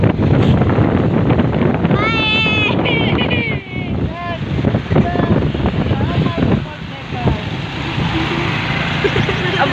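A motorbike rides along a village road, with steady wind buffeting the microphone throughout and people talking and laughing over the constant rushing noise.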